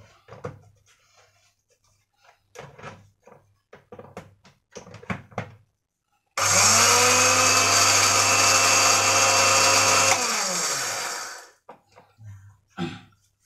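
A blender mixing cricket feed roars loudly for about five seconds, then winds down, with scattered clatters and knocks before and after.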